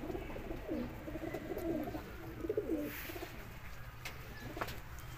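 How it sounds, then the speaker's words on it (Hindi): Pigeons kept for flying competition coo in a soft, rolling series close by, the low burbling calls repeating over faint outdoor background noise. "ये कबूतर है जी"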